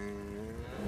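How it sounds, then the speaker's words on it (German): A newly arrived cow on a farm animal sanctuary moos in one sustained, steady low call filling the whole moment, close and fairly loud with no talking. "guck mal, da hinten ist eine neue Kuh gekommen"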